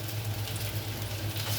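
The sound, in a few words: garlic, onion and green chillies frying in oil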